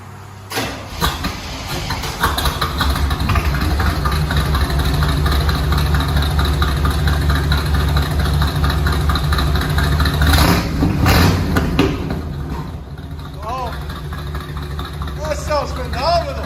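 A 1964 Chevy C10 with a 350 V8, shorty headers and true dual Flowmaster Outlaw exhausts idles with a steady, deep low rumble. The sound is loud and close, and people talk over it.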